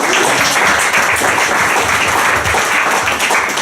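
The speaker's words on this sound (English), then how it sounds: "how about a round of applause for our panel?" A conference audience applauds a panel steadily for several seconds, a dense and sustained clapping that fills the room without pause.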